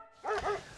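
A dog in an apartment gives a couple of short, close barks or yips in under a second, with no talk over them.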